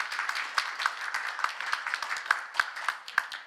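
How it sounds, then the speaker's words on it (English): A few people clap unevenly at a panel discussion on disability rights in Eastern Europe and Central Asia, quiet and somewhat distant, without voices. "A round of applause, please, for Leazat."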